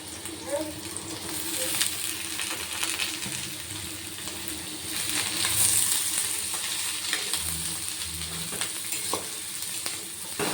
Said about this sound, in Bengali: এবার আমি কেটে রাখা বেগুনগুলো দিয়ে দেবো।